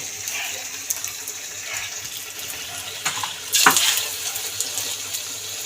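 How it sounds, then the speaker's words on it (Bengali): Kucho chingri bora, small shrimp fritters, hiss steadily in hot oil, with a louder surge of sizzling as another portion drops in. "তেল গরম হয়ে গেছে ফ্রেন্ডস এরকম পকোড়ার মতন গোল গোল করে তেলের ওপরে ছেড়ে দিলাম"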